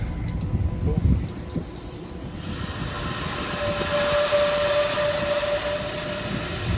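A water pump on a tank truck starts up and runs as a steady, loud mechanical whine and hum, with a voice talking briefly beforehand.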